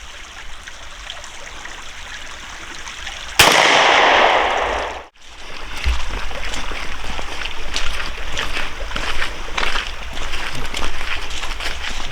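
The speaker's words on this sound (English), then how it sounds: "All right, I'm going to shoot" A Stevens .410 shotgun fires a 12 gauge TSS shot load outdoors: one sharp, loud blast cuts through a steady background of rushing water, followed by a brief dip and the continuing stream.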